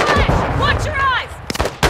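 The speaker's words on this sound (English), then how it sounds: "You are taking effective fire." Loud gunshots from the Call of Duty DMZ video game crack in a quick cluster of sharp reports, mixed with game voices and effects.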